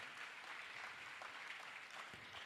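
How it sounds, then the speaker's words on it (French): Congregation applauding at a Christian worship service after an acclamation to Jesus Christ, a dense, steady wash of many hands clapping throughout, fairly faint and distant, with no voices standing out. "Acclamation à Jésus-Christ"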